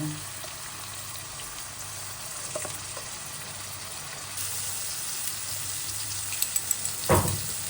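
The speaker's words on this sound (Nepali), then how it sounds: "अब चाहिँ मैले यसमा चाहिँ टमाटर लगाउँदै छु। प्याज चाहिँ एकदम गोल्डन ब्राउन भएर पाकिसकेको छ।" Tomatoes frying in a pan with golden brown onions give a steady, close sizzle, with a few light stirring knocks and a louder scrape near the end.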